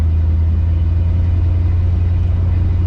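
A 1970 Dodge D100 pickup with a swapped rear end drives at very light throttle, a steady low engine rumble heard from inside the cab, even and unbroken, with no talking.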